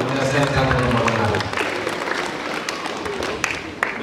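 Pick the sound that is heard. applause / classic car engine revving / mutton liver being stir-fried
applause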